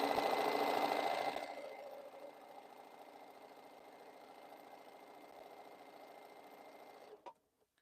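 Sewing machine stitching quilt segments for a boho heart quilt, a loud steady mechanical whir for about a second and a half, then a quieter continuous running hum until a final click as it stops.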